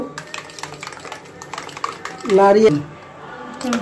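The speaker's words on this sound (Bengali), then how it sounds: "তারপরে এই ডিমটাকে সুন্দর করে গোলাবো" Eggs being beaten for an omelette: close, busy clinking and scraping of a utensil against a bowl, with a person talking over it and a brief louder tonal swell midway.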